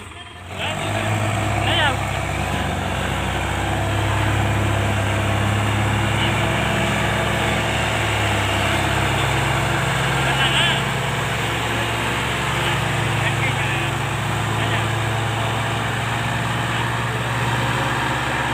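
Mahindra 275 tractor engine running during a stuck-pulling contest in a farm field: a continuous loud diesel drone with steady low rumble and faint background voices, holding constant throughout.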